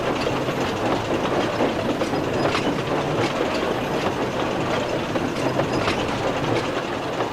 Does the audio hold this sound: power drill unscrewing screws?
no